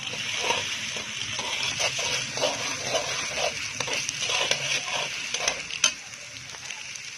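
Ginger garlic paste sizzles and fries in a pan, a steady close hiss broken by soft scraping stirs and one sharper clink near the end, with no voices.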